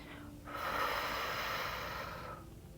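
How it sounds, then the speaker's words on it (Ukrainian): A long, steady breath pushed out through lips pursed into a tube during a yoga and Pilates session, a soft breathy hiss of about two seconds rising after a short pause, close and alone. "Знову видих через губи трубочкою."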